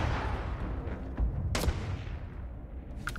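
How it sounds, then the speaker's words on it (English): Gunfire in Starfield over a steady low rumble, with a few distinct shots standing out, including a sharp crack in the middle and another toward the end, fairly faint and without speech. "Who the heck is shooting me?"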